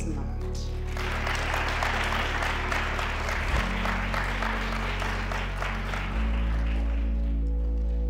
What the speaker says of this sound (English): you should actually give them applause because they look very smart.